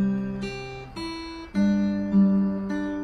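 Clear guitar notes played one after another in an unhurried melody, each plucked note ringing briefly before the next; quiet and close, with no voices.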